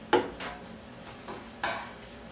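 A utensil knocks and scrapes in a pan of tomato sauce with oregano, giving a few sharp, separate clinks at close range with quiet gaps between them.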